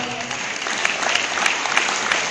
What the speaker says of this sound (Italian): E facciamo un applauso.